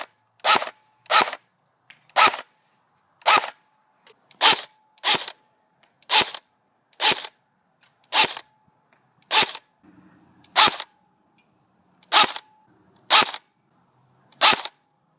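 A Cybergun Beta Spetsnaz AK airsoft rifle made by CYMA fires single shots, about fourteen sharp close cracks spaced roughly a second apart over near silence, with faint mechanical noise between some shots.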